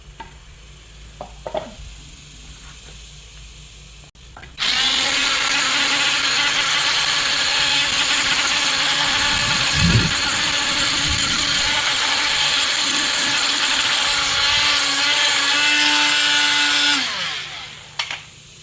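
Battery-powered masonry edging tool grinding and rounding stone edges, a loud, steady whining grind lasting about thirteen seconds before winding down, preceded by a few clicks and handling noises.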